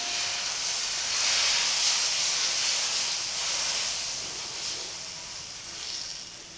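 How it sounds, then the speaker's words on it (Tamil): Onion rava dosa batter poured thinly onto a hot pan hisses loudly and continuously, the steamy sizzle swelling and easing in gentle waves. "இப்போ நம்ம கரைச்சி வச்சிருக்கக்கூடிய மாவை இதில் அப்படியே மெலிசாக ஊற்றணும்."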